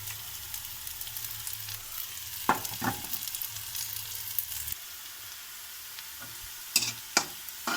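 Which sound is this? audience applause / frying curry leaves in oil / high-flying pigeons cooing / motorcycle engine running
frying curry leaves in oil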